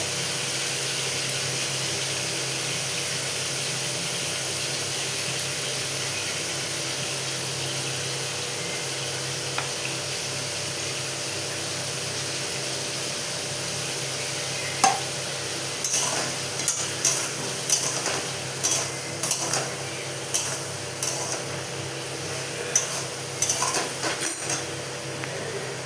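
Ridge gourd with poppy seed paste fries quietly in a pan with a low, even sizzle, and halfway through a spatula starts scraping and knocking against the pan in a string of sharp strokes, with no voices.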